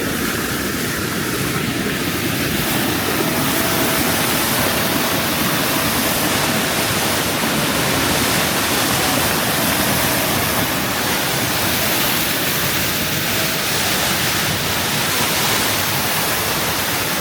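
Strong rushing water near a spring in Kırklareli's Pınarhisar area, a loud, constant broadband roar filling the whole stretch without a break.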